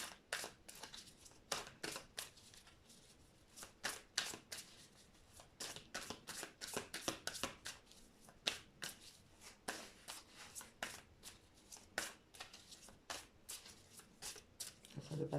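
Tarot cards are shuffled and drawn in a quiet room, giving a long, steady run of soft riffling snaps and flicks at close range.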